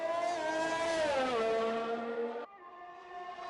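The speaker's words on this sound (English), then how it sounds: "Now I guess we can just go back and listen to the cars" Race car engines in a video game whine at a high pitch, dropping as one passes, then a steadier engine tone continues after an abrupt cut.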